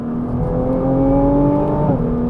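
A Nissan GT-R T-Spec engine revs up with a rising mechanical whine, pitch climbing steadily for a couple of seconds, loud and close, then drops as it shifts.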